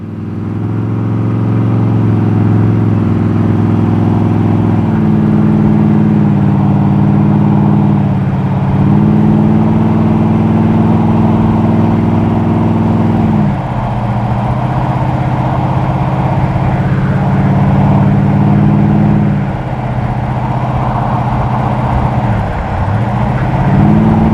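A 1956 Chevy wagon driving, its engine a loud steady hum near the listener that shifts pitch a few times as it changes speed, with no talking over it.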